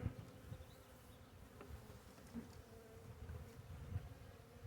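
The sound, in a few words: honey bees buzzing around hive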